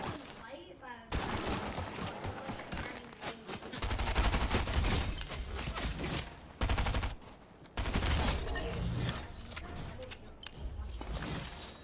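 SMG fire in a video game rattles in rapid bursts, loud and dense, broken by brief pauses between volleys, with a player talking over parts of it.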